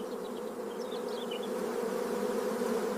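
Bees buzz steadily at a beehive, a dense continuous drone that holds close and fairly loud throughout, with a few faint higher whines drifting over it.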